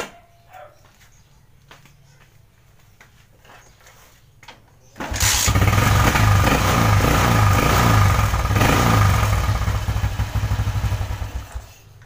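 A Motorstar Zest X 110 motorcycle with no fuse fitted starts up after a few quiet seconds of clicks, then the small engine runs loud and close with an even rumbling idle until it cuts out at the end.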